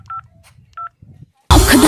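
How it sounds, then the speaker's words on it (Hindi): Telephone keypad tones beep as a number is dialed, two short clear tones followed by a brief pause, then a loud burst of other sound. "दया के पास फोन करो तो"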